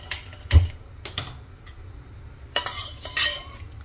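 A spoon mashes cooked toor and masoor dal in a pot, giving a few distinct metallic clinks and scraping knocks at irregular intervals over a quiet background, with no talking.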